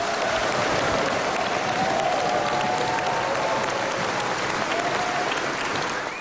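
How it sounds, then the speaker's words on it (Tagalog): Sustained applause fills a large hall during President PNoy's State of the Nation Address at the Batasan, a dense, steady roar of many clapping hands that fades slightly at the end. "88 beses din daw pinalakpakan ng Pangulo sa gitna ng kanyang talumpati."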